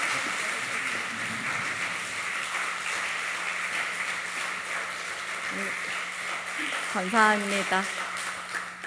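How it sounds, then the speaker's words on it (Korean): A congregation applauds during a Sunday church service, a steady wash of clapping through the hall, with a voice speaking briefly near the end. "박수로 맞이해 주시면 감사하겠습니다."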